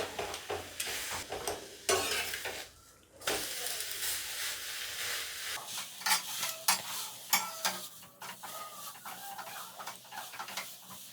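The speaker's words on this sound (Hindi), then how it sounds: "अब हम इसे आधा मिनट तक उलट पलट के पकाएंगे।" Pumpkin leaves sizzle on a hot griddle over a gas flame as they are flipped and stirred, giving a continuous crackling fry broken by scraping and tapping of a utensil, with a brief quiet gap near the start.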